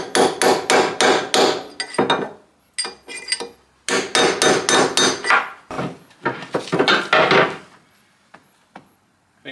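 A mechanical power hammer forging hot metal strikes in rapid bursts of loud clanging blows, pausing briefly between runs of several hits, no voices.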